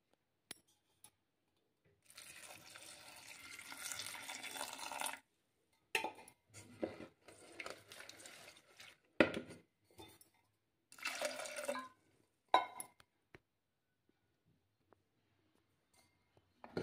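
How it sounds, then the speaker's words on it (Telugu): Water is poured into a pot of vegetables for mamidi kaya pappu (raw mango dal), giving a steady splashing pour followed by several short bursts of sloshing and clinking, then near silence. "సో ఇప్పుడు కొంచెం వాటర్ వేసుకోవాలి, మునిగినంత వరకు, ఆ కూరగాయలు మునిగినంత వరకు"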